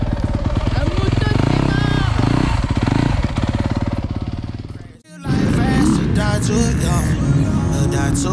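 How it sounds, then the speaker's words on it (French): Dirt bike engine roaring loud and steady on a motocross circuit in Italy (Dorno, Ottobiano), with a brief cutout near the middle before the engine noise returns strongly, music and voices mixed in. "la moto"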